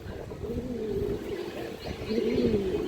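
Afsan Bagha pigeons, a male and female pair in a loft, coo in soft, throaty, repeated phrases close by, over a low background murmur.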